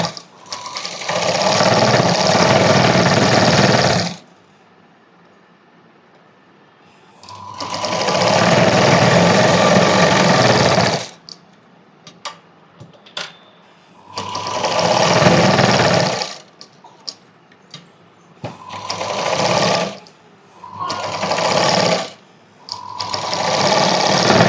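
A sewing machine stitches the joint of a net baby frock from the top side over its lining in six separate runs, each a loud, close whir lasting a few seconds, with quiet pauses between them.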